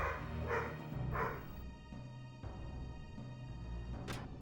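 Excited puppies bark and yip in bursts over steady game music and effects in Final Fantasy Tactics, the barks moderately loud and repeating throughout.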